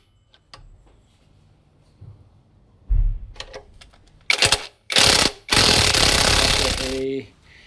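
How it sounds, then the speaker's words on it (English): A car jack is lowered under a Ford Figo during engine mount work. A few scattered mechanical clicks and knocks lead into two or three loud, close bursts of rushing, grinding release noise, the last one sustained for about two seconds. "I'm just gonna try to lower the jack and see if it does anything."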